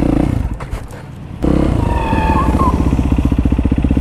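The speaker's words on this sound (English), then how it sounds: "I'm gonna see if I can't figure out rolling burnouts on this thing" A Yamaha WR450SM supermoto motorcycle attempts a rolling burnout, its engine loud and close, dipping briefly then surging into a hard, rapidly pulsing rev with a faint tire squeal.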